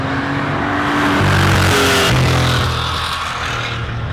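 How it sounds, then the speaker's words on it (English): Porsche 2.7 RS engine roaring close and loud, a rich droning growl with steady harmonic tones that swell in the middle and then ease slightly, with no voices. "You start the motor up and this roar just starts to happen."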